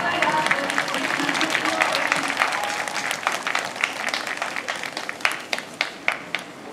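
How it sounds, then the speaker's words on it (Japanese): Dense applause from a baseball crowd at the Giants' farm stadium during a 2021 Eastern League game, Yomiuri Giants vs Hokkaido Nippon-Ham Fighters; steady clapping throughout with sharper individual claps toward the end and a faint voice underneath. "どうぞ大きな拍手をお送りください。"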